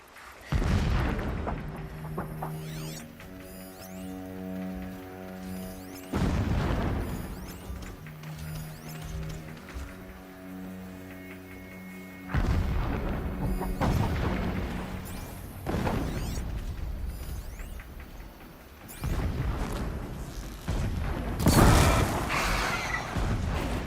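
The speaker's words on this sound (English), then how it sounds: "Explosions in the distance." Distant explosions in Horizon Zero Dawn, several heavy booms rolling in at irregular intervals over a low sustained tonal music bed, fairly faint and broad, with no speech.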